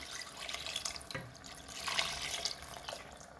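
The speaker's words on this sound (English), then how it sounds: "And then add the water that was in my green banana soaking" Soaking water from green bananas (matooke) poured into a cooking pot, a steady splashing, gurgling stream that runs throughout, close and moderately loud.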